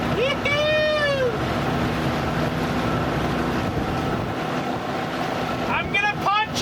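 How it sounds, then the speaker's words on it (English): Cruise boat motor running on the water of McCovey Cove beside the San Francisco Giants' ballpark, a loud continuous engine rumble with wind buffeting the microphone, and excited whooping voices breaking in at the start and end. "right here with the cruise boat"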